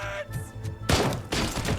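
Gunfire in the Robocop Rogue City video game comes in two dense bursts of loud, crackling shots with booming low thuds, the second burst following a short gap after a quieter stretch.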